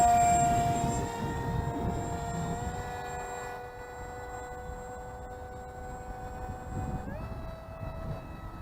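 An RC Eurofighter V5 model jet flies low and slow overhead, its motor giving a steady whine that fades slightly and then jumps up in pitch near the end. No voices are heard.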